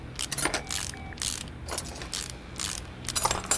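Teeny tiny screws being removed from an ABS module in Car Mechanic Simulator 2018: repeated short, crisp ratcheting and clicking bursts, close and fairly loud.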